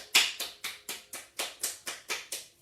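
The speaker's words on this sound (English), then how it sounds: "And again, we'll give it a little clap." Hands pat against a bare foot during a gentle home yoga session, about ten soft, evenly spaced slaps in a steady rhythm, close and quiet, with no talking.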